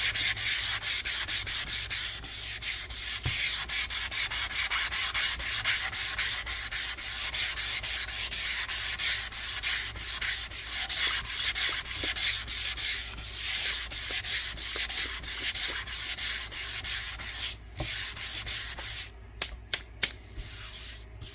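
Grain filler being hand-sanded off a northern ash guitar body, a close, continuous rhythmic rasp of strokes back and forth along the grain, with the strokes turning shorter and choppier near the end, no talk.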